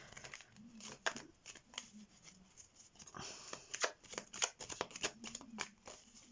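Tarot cards shuffled by hand in a quiet room, a series of soft riffling and flicking bursts, some close and crisp, spread through the stretch with brief pauses between.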